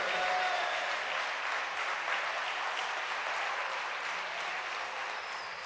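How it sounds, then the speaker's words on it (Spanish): A church congregation applauds loudly during a worship service, a thick, even roar of clapping hands that holds steady and fades slightly toward the end. "Dale un aplauso a Jesús fuerte."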